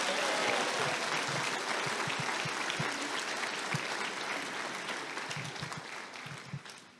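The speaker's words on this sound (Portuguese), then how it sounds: "Dá uma salva de palmas para Jesus." A church congregation claps in praise during a worship service, a steady wash of applause that gradually fades, with a few sharp individual claps standing out near the end.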